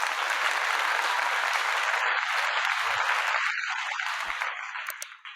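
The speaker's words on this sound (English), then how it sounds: "So let's go ahead and give him a round of applause real quick." Steady applause welcomes a guest onto a podcast, a continuous clapping crowd sound held at an even level before cutting off at the end.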